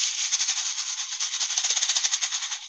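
A homemade rain stick filled with rice pours a continuous, gentle shower of tiny rattling grains, a soft hissing patter with no voices.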